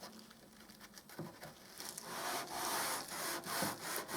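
Finishing sandpaper on a flexible sanding tip works up and down into a wooden right-angle corner to strip the last varnish, giving a steady close scratchy rasp in repeated strokes that grows louder and denser partway through.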